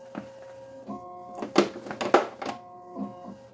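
An embroidery machine tracing a design outline on a hat gives off a steady mechanical hum with tonal whirring and a few louder clattering bursts in the middle, close and alone.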